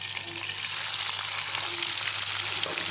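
Tomatoes and chilies fry in hot oil with garlic and ginger, giving a steady close sizzle with light stirring scrapes and no talk.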